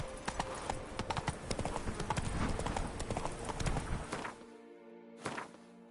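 Hooves of the horse Roach clip-clop in the Witcher 3 video game, a quick steady run of close, crisp steps that stops abruptly, followed by one more brief burst.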